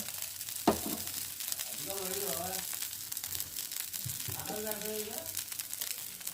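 Chicken fry dosa sizzles on a hot pan after oil is added around its edges, a steady close crackling hiss that runs throughout while a person talks over it.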